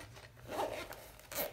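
A zipper is pulled on a small, sturdy carry case for camera sunglasses. Two quick close rasping pulls sound fairly quietly indoors.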